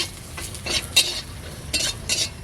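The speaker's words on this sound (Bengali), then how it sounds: "এর বড়িগুলোকে ভেজে নেবো ওই মাছের তেলে" Lentil dumplings (bori) frying in leftover fish oil in a pan, with a soft sizzle underneath and a few sharp scrapes and clinks of a spatula stirring against the metal, close and fairly quiet.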